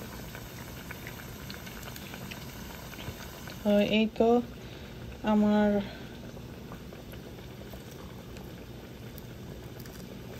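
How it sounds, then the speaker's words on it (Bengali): Piyaju, onion and vegetable fritters, bubble in hot oil in a home kitchen with a steady close sizzle and bubbling, while someone speaks briefly midway. "পেঁয়াজু ভাজা শেষ।"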